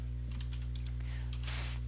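Code being typed on a computer keyboard, a quick run of light key clicks with a busier burst near the end, close up over a steady low electrical hum.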